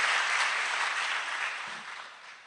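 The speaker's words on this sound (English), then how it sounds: "Give Malema a big clap" Audience applause for Julius Malema at the launch of the Pan Africa Institute, a dense steady wash of clapping from a large crowd that gradually thins and fades over a few seconds.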